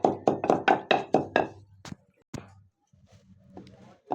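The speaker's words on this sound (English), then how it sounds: "So you go ahead and pound the Scentleaf" Scent leaf being pounded, a quick run of about seven sharp, close thuds in steady rhythm, then a pause and a few scattered strikes.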